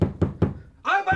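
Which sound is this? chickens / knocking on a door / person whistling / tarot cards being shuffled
knocking on a door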